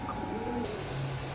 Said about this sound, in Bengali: এক জোড়া চিতা মেলেডির কবুতর, এই যে নর, এই যে মাদি